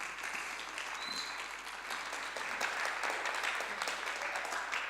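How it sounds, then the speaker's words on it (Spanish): A youth church meeting audience applauds in thanks, a broad, even wash of many hands clapping, moderately distant and soft, continuing without a break. "Le damos un aplauso en agradecimiento."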